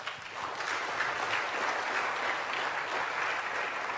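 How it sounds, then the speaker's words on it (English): An audience at a hacker conference talk claps steadily for several seconds, a dense, even round of applause that carries from start to finish with no voices. "So give a round of applause for these three."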